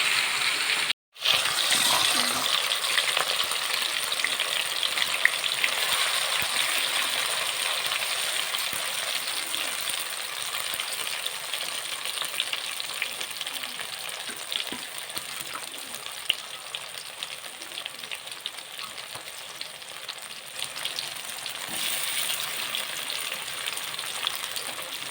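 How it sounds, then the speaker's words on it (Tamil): Cauliflower pieces deep-frying in hot oil, a steady, dense crackling sizzle that holds for the whole stretch, close and loud, with a brief dropout near the start and no talking. "20 நிமிஷம் ஆயிட்டு இனி எண்ணெயில் போட்டு பொரித்து எடுத்துக்கலாம்"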